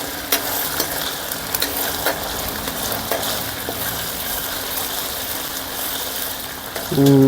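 Ginger garlic paste fries in a pan while being stirred: a continuous close sizzle with scattered scraping stirs throughout, and a short tonal sound right at the end.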